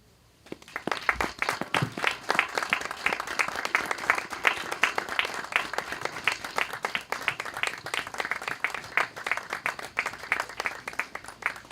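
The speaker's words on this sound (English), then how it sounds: "There was applause." Sustained applause from an audience at a press conference, steady dense clapping that starts after a brief quiet moment and carries on evenly at moderate volume throughout.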